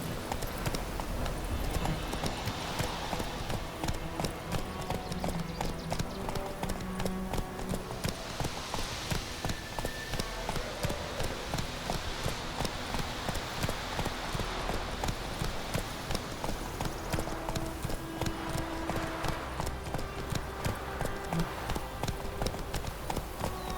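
Hooves of Roach, Geralt's horse in The Witcher 3, clip-clopping at a steady trot for a long stretch, fairly faint under ambient game sound with occasional distant voices.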